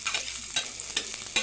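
Garlic and onion sizzle in a pan for adobo while being stirred, with a steady frying hiss broken by a few scraping stirs, close and fairly quiet, no voices.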